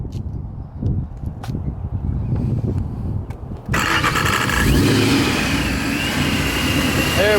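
A supercharged Paxton Mustang engine cranks briefly, then catches and roars loud and close, settling into a rough high idle with a whining rise of revs, after some clanking and brief voices beforehand.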